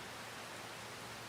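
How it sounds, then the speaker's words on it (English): Rain falling in the video game Farming Simulator 25, a dense, steady hiss of downpour with no breaks, fairly quiet and heard alone. "it's raining again."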